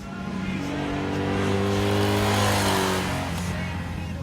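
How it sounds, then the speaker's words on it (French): Honda VFR V4 motorcycle engine revving hard at high rpm, a smooth turbine-like whine that swells in pitch and loudness toward the middle, then eases off, steady and close. "à haut régime, le bruit du V4 se change en turbine"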